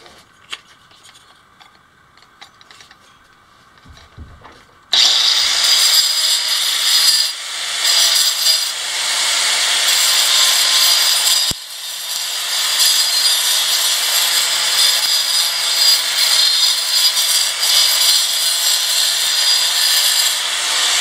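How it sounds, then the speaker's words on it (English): A power saw cuts through wood during a sea wall repair. After a few quiet seconds with faint handling noises, the saw starts abruptly and runs loud and close for the rest of the clip, dipping briefly once midway. "I wouldn't normally use power tools this early"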